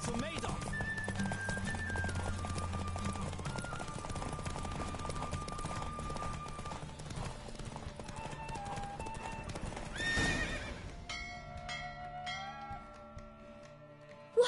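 Horse hooves clip-clop in a rapid galloping rhythm during a race in the video game The Witcher 3, with game music and voices over the hoofbeats and a whinny.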